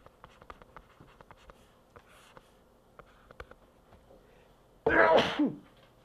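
A single loud, sudden sneeze near the end, after a run of faint tapping and scratching sounds.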